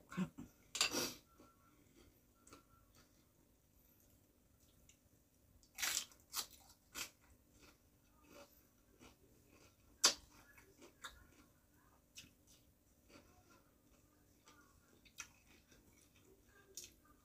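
Crunchy chewing of a meal of jaew with mushrooms and fried fermented fish, heard as sparse, sharp bites and crunches spread across the stretch with quiet gaps between, close and without talk.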